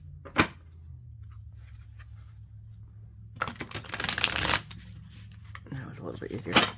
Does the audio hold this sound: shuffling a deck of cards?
yes